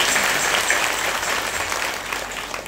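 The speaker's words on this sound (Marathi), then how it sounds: "आपल्या मनाला जर आनंद देणारी जर असेल तर त्यांच्यासाठी टाळी वाजवा" An audience at a kirtan claps together, a full, steady wall of applause that stays loud and dense from start to finish.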